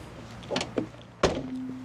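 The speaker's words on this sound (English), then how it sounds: "you've got a push there to open the fuel door" Fuel door on a 30-year-old Nissan Micra pushed open: a couple of soft plastic clicks, then a sharper thunk as the flap pops, close up.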